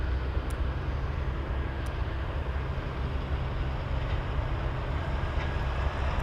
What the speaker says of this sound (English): There goes the C-17 flying above Ted Stevens.